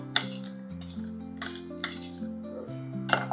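Rice and sago being dry-roasted in a pan, stirred with a metal spoon that gives a few sharp clinks and scrapes against the pan over a faint steady background, close and quiet with no talk.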